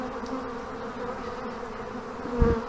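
A swarm of honey bees buzzes around an old hive, a continuous close droning hum with a few individual bees passing near and one louder buzz toward the end.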